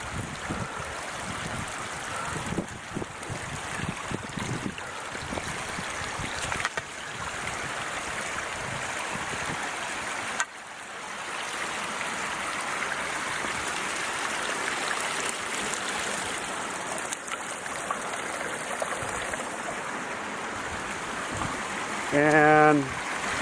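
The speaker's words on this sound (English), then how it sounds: "right on the trail, we run into a little spring" A small mountain spring runs across a canyon hiking trail with a steady, close rushing flow throughout, broken by a brief shift partway through and a short louder burst near the end.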